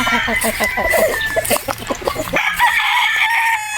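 A Boston Roundhead brood stag rooster crows loudly and close, with clucking and other fowl calls around it in a busy farm yard.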